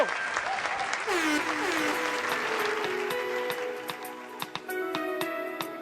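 An audience applauds a live performance, the clapping steady and fairly full for several seconds while musical tones ring over it and a few sharp hits cut through.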